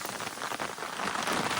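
Rain falls during a storm out on San Diego Bay while fishing, a steady broadband hiss of drops hitting the surface that swells slightly louder toward the end, with no one speaking.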